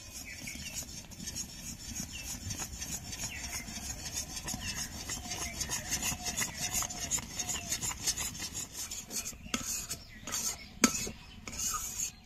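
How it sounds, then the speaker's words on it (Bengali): Semolina being stirred nonstop in a pan while making semolina rasmalai, giving a soft continuous rubbing, scraping texture of a spoon against the pan, fairly quiet and close, with a few sharper scrapes toward the end. "এবার সুজিগুলো অল্প অল্প করে দেব আর অনবরত নাড়তে থাকবো, যাতে দলা না পাকিয়ে যায়"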